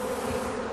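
A swarm of about 20,000 bees with their queen, clustered on a tree branch along a residential street, makes a brief, dense, steady buzzing hum close by.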